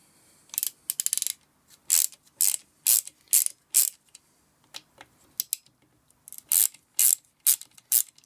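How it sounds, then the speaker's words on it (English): A ratchet clicks in repeated short bursts while undoing the five crankshaft plate screws on a McCulloch strimmer, loud and close, with brief pauses between strokes. "there's five screws to undo."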